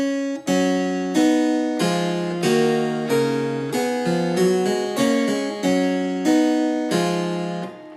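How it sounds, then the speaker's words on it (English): Bach music played upside down and backwards on a keyboard, a steady run of struck chords and notes, each attack decaying before the next, in a regular rhythm, close and bright with no voices. "if you turn the music up the other way around and read it backwards, what you get is this"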